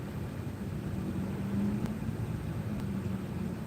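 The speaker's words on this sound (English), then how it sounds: "There's cars. There's another car behind me." Cars in a drive-through lane, heard from inside a vehicle as a steady low engine rumble and broad road hiss, with a couple of faint clicks and no talking.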